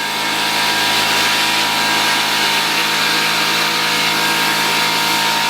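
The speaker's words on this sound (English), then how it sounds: "We're using a parts washer now." A workshop parts washer cleans greasy Ford Toploader manual transmission parts, giving a loud, continuous hiss and pump drone with a low hum and no pauses throughout.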